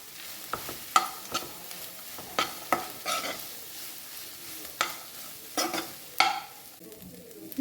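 Fried mushrooms stirred in a pan, repeated scraping and clattering strokes of a spoon against the metal at an irregular rhythm over a soft sizzle, close up, no talk.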